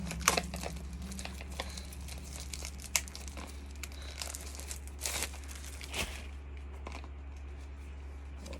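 The packaging of a new iOS wireless microphone being opened, with faint plastic crinkling and tearing in scattered bursts over a quiet background.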